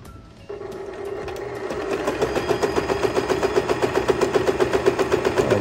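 A mechanical heavy-duty domestic sewing machine stitches one side of a buttonhole, starting after a brief hush and building into a fast, even clatter of needle strokes, close and alone.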